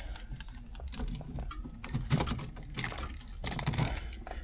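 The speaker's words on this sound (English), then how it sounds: "3 square keys on here." A bunch of car keys for a 1970 Chevelle jangles and clinks close by in short metallic bursts, with faint rustling between shakes.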